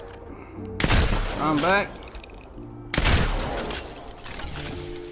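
Two loud Peacekeeper shotgun blasts in a video game, roughly two seconds apart, each with a sharp boom and a ringing tail, with a brief spoken phrase between them.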